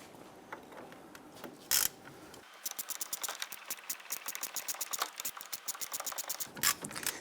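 A ratchet clicks rapidly and steadily up close as it turns out the hub bolts holding the CV axle on a 1999-2004 Jeep Grand Cherokee, after a few scattered metallic knocks and scrapes.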